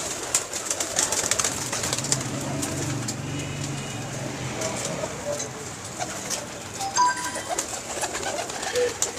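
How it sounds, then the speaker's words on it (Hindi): Pigeons in a loft in Jhelum coo softly and repeatedly, low rolling calls at moderate distance over faint background noise. "नसीर मीर साहब ने बड़े ही आला कबूतर रखे हुए हैं, बड़े नायाब कबूतर, बहुत शानदार।"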